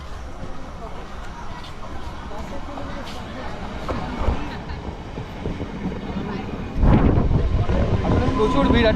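A train rumbles at a crowded railway platform near Kolkata, a steady low roar that swells louder and heavier toward the end, under a murmur of people nearby.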